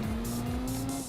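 A race car in Gran Turismo 4 oversteering through a corner, its engine droning steadily while tires squeal in a sustained high whine across the short moment.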